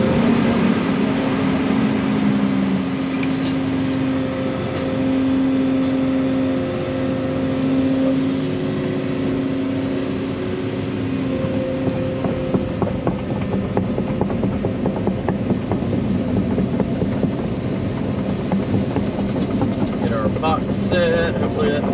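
A working excavator engine runs steadily at a pond site while an overflow structure is being set, a continuous mechanical drone with clanking and gear-like rattles, fairly loud and close throughout.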